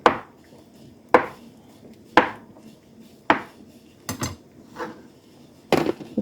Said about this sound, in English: I'm just going to cut them into little bite-sized pieces.